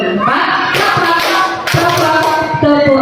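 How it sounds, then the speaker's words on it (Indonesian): A classroom group of teachers or students claps hands in counted rounds during a positive-culture activity, loud and near, with bursts of clapping coming in waves under a tonal backing. "tepuk satu, tepuk dua, tepuk tiga,"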